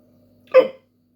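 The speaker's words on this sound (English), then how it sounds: "Hiccup time." A single sharp hiccup, close and fairly loud, bursts out after a hot chili pepper pod was eaten, then silence.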